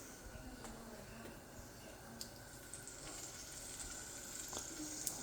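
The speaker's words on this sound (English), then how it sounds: "A little bit of a sizzle." Pork chops sizzle in a frying pan at a farm, a soft, steady crackle of frying meat running through the whole stretch with faint clicks on top and no talking.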